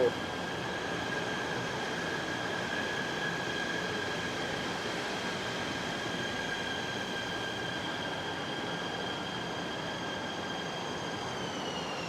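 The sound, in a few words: train arriving at Batu Caves station, Malaysia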